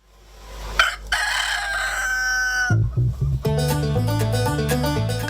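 Chickens in a home yard, with a rooster crowing a long, loud call near at hand, followed by steady clucking and more crowing that run on without a break.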